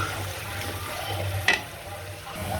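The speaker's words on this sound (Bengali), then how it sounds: "সব মশলা দিয়ে দিচ্ছি এটার মধ্যে, দিয়ে এটাকে কষাইতেছি সুন্দর করে" Spices being sautéed in a pan while stirring, a soft sizzle under faint stirring scrapes with one brief clatter midway, close and fairly quiet.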